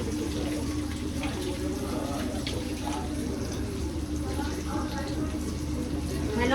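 Water runs steadily from a kitchen tap while vegetables are washed at a sink in an Indian home, a continuous close splashing stream that swells slightly near the end.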